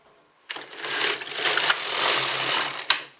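A Silver Reed LK150 knitting machine carriage slides across the needle bed with a steady whirring clatter and a few sharp clicks, loud and close, with no voice heard.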